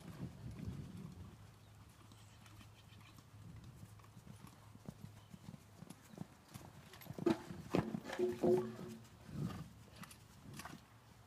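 Horse hooves clip-clop steadily over the ground at an outdoor show-jumping clinic, growing louder and more clustered in a burst of strides toward the end, with a faint voice now and then.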